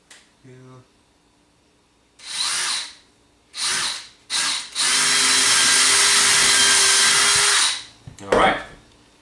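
Power drill boring a hole through wood for a rawhide lacing during shield construction: several short loud whirring bursts, then one long sustained drilling run of about three seconds, ending with a brief final burst.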